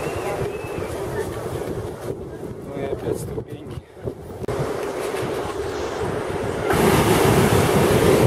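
Strong ocean waves breaking at Santa Cruz beach, a loud continuous rushing roar with gusty wind buffeting the microphone, swelling louder toward the end.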